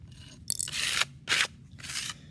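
A credit card tool scrapes clay from a pottery surface in three dry, rasping strokes, each close and distinct with short pauses between them, and no voices.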